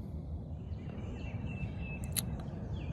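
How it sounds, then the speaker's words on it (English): Birds chirping in morning woods at a wildlife management area campsite, faint scattered calls and one brief sharper tweet over a low steady background rumble. "That is the birds saying it's time to wake up."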